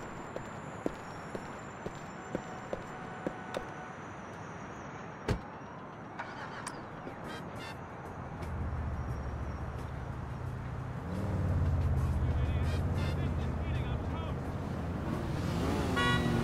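A car in the video game GTA 4 starts up and drives off. Scattered clicks and a sharp thump come first, then a low engine rumble sets in and grows louder as the car speeds up.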